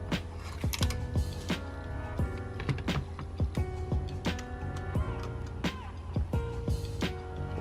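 A screw being undone on a MacBook Pro, with small clicks, ticks and creaky scraping of a screwdriver repeating close up in an irregular rhythm.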